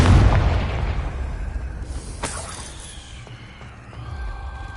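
A Confringo blasting spell from Hogwarts Legacy erupts in a loud, close boom with a crackling burst at the start, then a second sharp crack midway, and the rumble fades into quieter debris and ambience.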